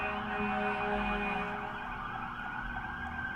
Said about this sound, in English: You hear this? That's the sirens.